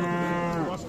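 A single cow lows loudly and close at a busy livestock market in Osh, one sustained moo that trails off at the end.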